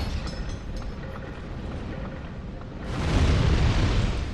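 In Dark Souls 2's Brume Tower, a wall blows open with fire: a steady low rumble swells into a louder, roaring blast for the final second or so, with no voices.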